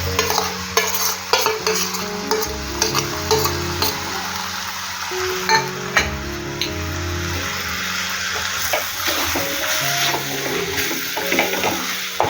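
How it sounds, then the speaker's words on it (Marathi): Prawns cook in a masala base for Malvani-style biryani, with a steady sizzle under repeated scraping and stirring strokes of a spoon in the pan, close and fairly loud. "आता आपण ही कोळंबी टाकणार आहोत शिजायला"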